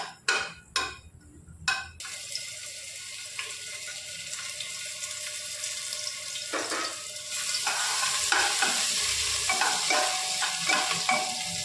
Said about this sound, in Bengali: এবার আদাটা ভালো করে তেলে নেড়ে নিচ্ছে